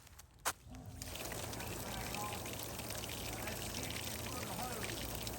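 Water flowing from a 50-foot hose fed by a Seesii cordless self-priming transfer pump, rated at 760 GPH, gives a steady close rushing splash that carries on without a break after a brief knock at the start.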